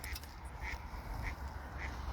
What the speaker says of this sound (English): if you listen, you can hear the ducks